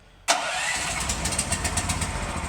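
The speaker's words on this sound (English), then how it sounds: "fires up real nice, real easy" Generator engine on a 1992 Sunvoyager with choke firing up: a sudden start after near silence, then a close, steady, slightly pulsing idle.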